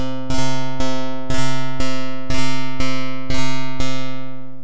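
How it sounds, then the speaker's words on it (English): Drambo step sequencer synth playing a repeating tonal note with sharp attacks, retriggering in evenly spaced pulses, each hit decaying before the next, clear and loud with no talk. "you will hear the note retrigger twice"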